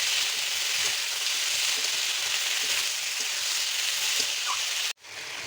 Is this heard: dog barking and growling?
no